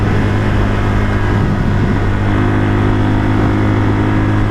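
A 1978 Kawasaki KL250 motorcycle with a newly installed carburetor accelerates toward 60 mph under steady throttle, its engine a loud continuous drone heard close from the rider's position with wind noise mixed in.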